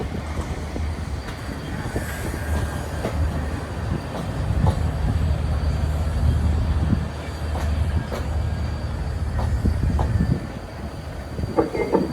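The Chattogram Express, a vacuum-brake passenger train in Bangladesh, rolls into a station platform with a steady loud rumble, scattered wheel clicks and clanks over about twelve seconds.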